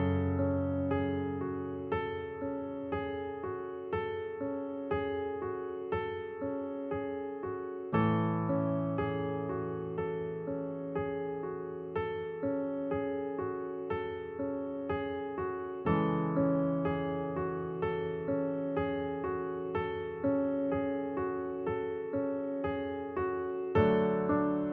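A piece played on piano with both hands: steady repeating broken-chord figures over sustained bass notes, the phrase pattern restarting every few seconds, played alone and close with no talking.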